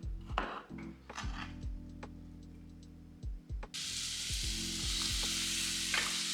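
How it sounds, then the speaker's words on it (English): Canned chickpeas sautéing dry with spices in a pan, a close crackling sizzle broken by a few stirring taps, with a low music-like hum underneath and a louder hiss in the second half. "Sauteing the chickpeas like this with the spices and without any liquid helps to improve the"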